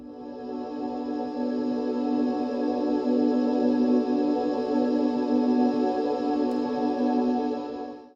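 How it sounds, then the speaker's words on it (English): A soft, sustained synthesizer pad holds a steady warm chord, smooth and even throughout with no voices. "here's what that first synth layer sounds like."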